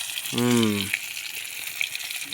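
Fish fries in very hot oil, a broad steady sizzle that hisses throughout, briefly overlapped near the start by a short voiced sound.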